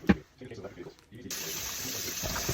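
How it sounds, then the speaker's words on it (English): Tap water runs into a kitchen sink while salmon is washed in vinegar water, starting after a few handling knocks and then pouring in a steady close hiss. "Then I'm washing the salmon in vinegar water."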